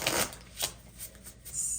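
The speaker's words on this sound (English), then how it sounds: "Sorry, I have to shuffle off the table." Tarot cards shuffled in the hands, a few quick riffling swishes with brief pauses between them, close and moderately loud with no voice.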